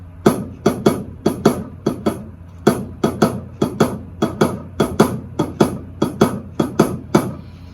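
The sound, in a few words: drum kit hi-hat shuffle beat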